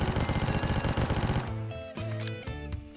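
An MP7 submachine gun in the War Tycoon video game fires a rapid, dense burst of automatic shots, then a few sparser single reports follow as the firing trails off.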